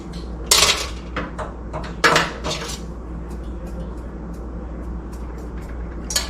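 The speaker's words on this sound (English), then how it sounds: "I think I really need a whisk to break those egg yolks up" A whisk beats egg yolks for homemade custard ice cream, making irregular bright metallic clinks and scrapes against the bowl, with a few louder knocks spread across the stretch.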